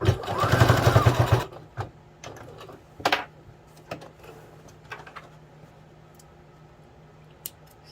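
A sewing machine runs a burst of stitching across a small fabric critter mattress, loud and close for about a second and a half, followed by quieter scattered handling clicks and snips.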